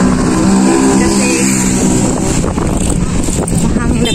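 Strong typhoon wind (Typhoon Pepito, Signal No. 4, Camarines Sur) roars loudly and continuously against the microphone, with a person talking underneath the gusty rumble.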